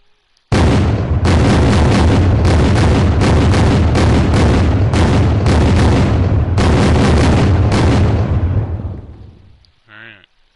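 Rapid gunfire in Unturned: a loud, sustained burst of shots in several strings with short breaks, fading out near the end, followed by a brief mechanical rattle.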